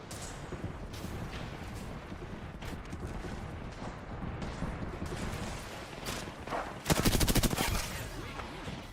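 A Knuckle Cluster weapon fires in a video game played on mouse and keyboard: scattered gunfire and mechanical clatter build to a loud, rapid burst of shots late in the clip.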